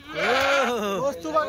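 A Kathiawadi goat on an Indian farm lets out a single loud, close, wavering bleat that lasts over a second.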